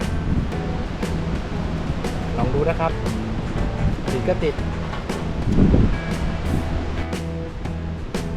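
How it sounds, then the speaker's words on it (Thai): Strong wind sweeps across a sandy beach at Had Tham Thong beside tall sand dunes, a constant rushing roar with gusts buffeting the microphone and surf faintly behind, while someone talks over it. "ลมแรงมากเลย"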